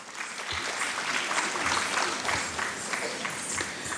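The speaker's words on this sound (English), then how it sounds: "This definitely calls for a big round of applause." An audience applauds steadily after an enchanting stage performance by Sri Lakshmi Prabhu and team, a dense, continuous wash of many hands clapping, moderately loud and sustained throughout.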